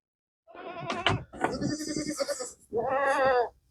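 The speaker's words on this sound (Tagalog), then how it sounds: "May isang lost goat tayo." Goats out in snowy cold give two close, loud bleats, the first broken and wavering, the second a longer drawn-out cry after a short pause.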